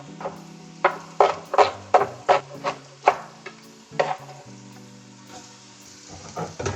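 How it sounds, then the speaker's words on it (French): Onions sizzle in a hot pan with a steady crackle, broken by a string of louder scraping stirs close by. No one talks. "là, je fais revenir les oignons"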